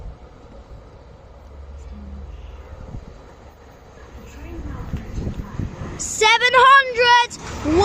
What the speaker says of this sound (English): Then we have a Thameslink train coming too.